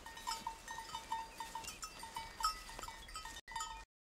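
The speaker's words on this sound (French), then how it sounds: "Alors les chèvres." Goats bleat in short, repeated calls, several animals overlapping in a fairly quiet outdoor setting, with faint rustling between cries.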